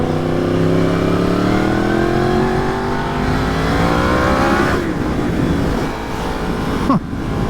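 A Yamaha FZ-10 sport motorcycle engine revs up steadily while riding, its pitch climbing loud and close before easing off, with rushing wind and road noise and no talk.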